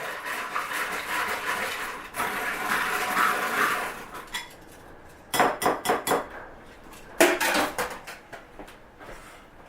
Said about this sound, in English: you need an egg beater. And beat the egg and milk together